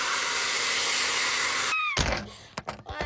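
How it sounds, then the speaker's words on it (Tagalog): A Fashion Air Dryer hair dryer blows with a loud, steady whoosh for almost two seconds, then cuts off, followed by a few close thunks and handling knocks. "magpa-blower muna ako ng aking buhok para hindi ito kakagkagkag. Ha? Gamit ko ang Fashion Air Dryer"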